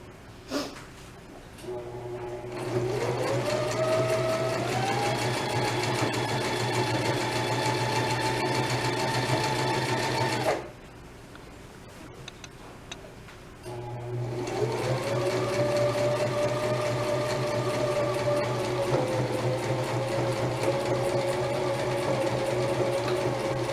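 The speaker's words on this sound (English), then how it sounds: "I'm going to do a back stitch across the whole strap just to make sure that those straps stay in there good" Close, loud whirring of a sewing machine back-stitching across a tote bag strap, with one long run, a short pause of near silence, then a second run. The motor pitch climbs as each burst gets going.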